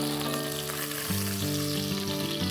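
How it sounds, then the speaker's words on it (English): Meat browning in a pan for plov gives a loud, continuous close-up sizzle and frying crackle, with a steady tonal hum beneath it and no talking. "So as you can see, our meat started to brown, and that's perfect."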